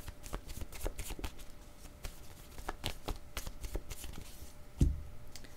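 Playing cards handled and drawn from a deck during a card reading, a steady run of soft riffling and flicking taps close by, with one heavier thump near the end.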